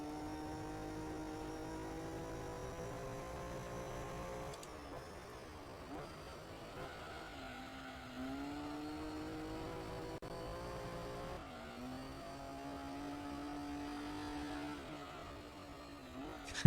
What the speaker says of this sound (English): It's kind of funny to hear the cars drift from a far distance